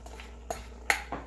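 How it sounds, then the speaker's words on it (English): Shrimp tumbling back into a pan, marked by a few separate metallic clinks and clatters of utensil against cookware, close by with no talk. "now is when we would go ahead and we'd add our shrimp back in"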